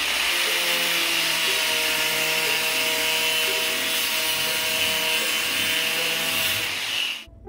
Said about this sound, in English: I then make an angled cross cut.